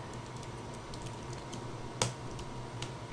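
Keys tapped on a computer keyboard while code is typed, a steady run of light clicks with one sharper, louder keystroke near the middle, close and alone over a faint room hum.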